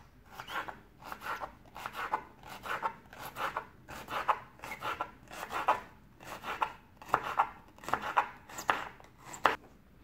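Knife chopping bitter gourd lengthwise on a cutting board for aviyal, a steady run of about twenty crisp, close cuts in an even rhythm, with no talking.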